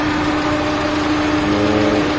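Steady, even idle of a Peugeot 206 with a manual gearbox, heard up close as a constant low hum with no changes in revs.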